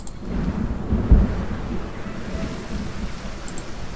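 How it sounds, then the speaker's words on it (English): A video-game thunderstorm with a thunder rumble near the start and steady rain falling throughout, loud and close. "The storm is passing."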